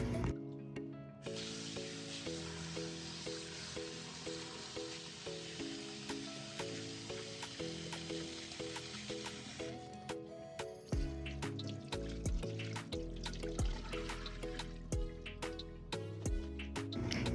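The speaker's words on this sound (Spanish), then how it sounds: "Vamos a enjuagarlo unas 2 o 3 veces para retirar el exceso de residuo de bicarbonato y alguna suciedad" Broccoli is rinsed under running water in a kitchen, with a continuous splashing and hissing stream and wet squishes as the florets are handled, under steady background music and with no speech.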